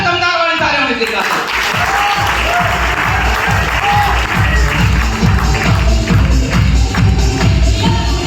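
Large audience applauding loudly and steadily at a formal honour ceremony, dense continuous clapping with some cheering that holds at full strength throughout.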